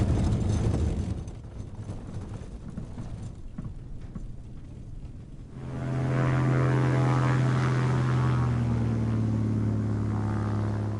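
A small propeller airplane lands in remote northeastern Alaska, its engine droning close and steady, rising in the second half to a loud sustained hum with strong low harmonics.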